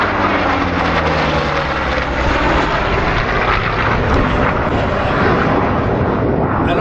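A Hawker Sea Fury and a Hawker Hunter fly together at a French air show, a loud, continuous roaring engine wash that swells slightly and holds without any voices.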